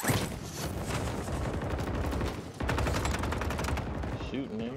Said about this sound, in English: Shooting, man.